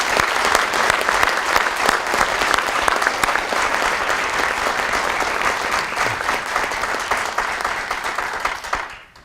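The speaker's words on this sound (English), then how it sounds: "why don't we give Rico a round of applause" Steady, dense applause from an audience at a police department awards ceremony honoring a departing officer, sustained at full strength for about nine seconds before cutting off abruptly, with no talk over it.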